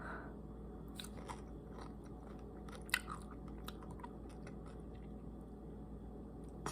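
Pickles with ranch powder being bitten and chewed up close, a steady wet crunching with a few sharper bites standing out against a quiet background.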